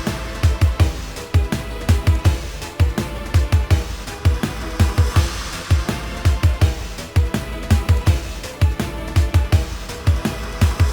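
The No More Innocence Phase 1 theme from a Sonic.EXE Roblox game, a loud, steady music loop with a repeating punchy beat and a dense layered backing, playing alone without voices.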